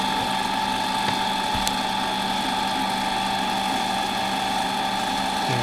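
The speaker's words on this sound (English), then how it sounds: "I'll give this a good polish." A brass finial being polished on a spinning tool, heard as a loud, steady mechanical whine and hum with faint ticking, continuous and close with no voices.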